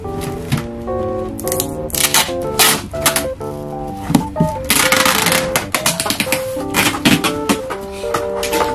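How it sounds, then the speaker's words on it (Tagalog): Packing tape is pulled and pressed onto cardboard while a homemade cat house is built. Quick, loud ripping and crackling bursts come close together, with background music playing underneath. "Tapos, i-tape natin."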